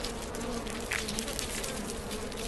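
Native Japanese honeybees buzzing at their hive in a hollow tree make a dense, continuous hum. It is fairly faint and steady, with no voices.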